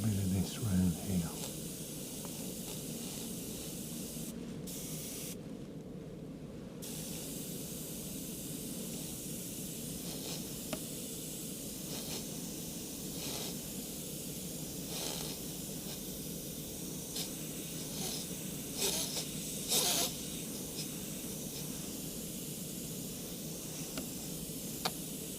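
Airbrush spraying black paint while airbrushing a skeleton design, a steady close hiss running unbroken throughout, with a brief pause near the start.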